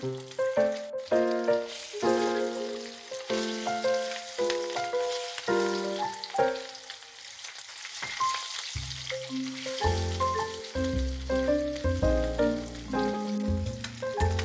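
River fish fry in a pan with a continuous crackling sizzle, partly masked by louder melodic background music playing throughout.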